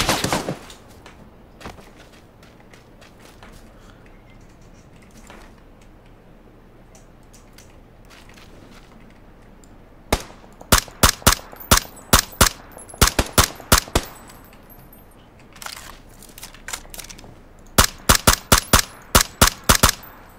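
Gunfire in PUBG on Xbox One rings out as scattered single shots, then dense rapid bursts of automatic fire in two main volleys, loud, sharp and close.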